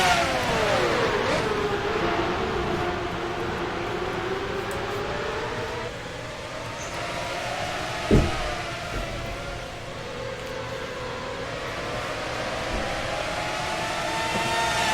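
IndyCar race cars in the NASCAR Racing 2003 game accelerate at the green flag on a Texas circuit, engines whining and revving in overlapping sweeps that rise and fall, with a sharp burst partway through.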